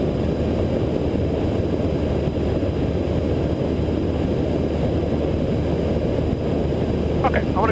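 Inside the cockpit of a small propeller airplane in flight over Auburn, a steady loud engine and propeller drone fills the cabin without pause, with a faint voice surfacing near the end.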